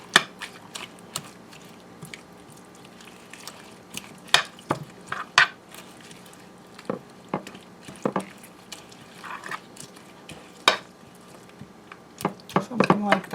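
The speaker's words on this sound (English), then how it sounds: "as I mix this, I'm breaking up the eggs a little bit and spreading the pesto throughout" Eggs being mixed with pesto and spinach leaves in a dish, with scattered clinks and scrapes of a utensil against the dish and soft wet stirring, faint and intermittent under a quiet background.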